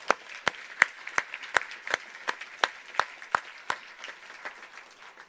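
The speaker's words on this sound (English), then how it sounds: "So let's begin by giving them a massive round of applause for organising this." At an AI conference in London, a lone pair of hands claps near the microphone in a slow, steady beat of about a dozen claps, each crisp and separate over a quiet room.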